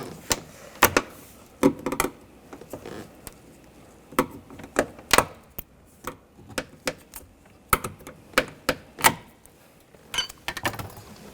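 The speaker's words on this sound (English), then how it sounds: "Using a trim tool, just pop the retainers out." Plastic trim retainers on a 2014-2018 GMC Sierra 1500 door being pried out with a trim tool, giving sharp close clicks and snaps in irregular bursts with short quiet gaps between.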